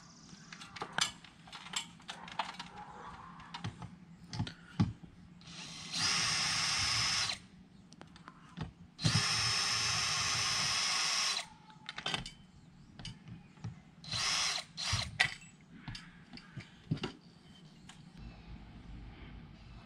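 A power drill backs out two set screws from the front and back of an RV awning bracket, sounding in two loud sustained bursts of a few seconds each, with shorter whirs and scattered clicks and handling knocks between them.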